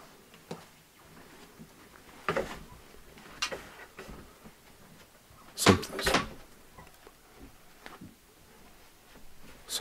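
An indoor door creaks and knocks in a quiet old house, a few scattered soft thumps and one sharper clatter midway, faint against a hushed room with no voices.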